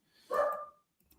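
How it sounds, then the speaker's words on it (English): A single dog bark rings out at moderate distance during a sports talk show, one short burst followed by quiet. "as the dog's barking"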